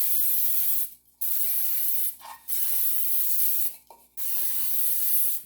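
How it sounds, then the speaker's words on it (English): Baking spray hisses onto a cake pan in three steady bursts, each lasting about a second or more and separated by short pauses, close and fairly loud with no talking. "Then we'll start spraying the side."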